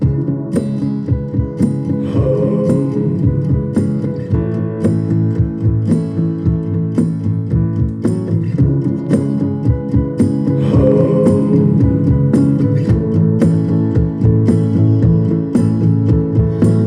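A song plays as a recording at a loud, steady level, with a full band groove and a regular rhythmic beat and no talk over it.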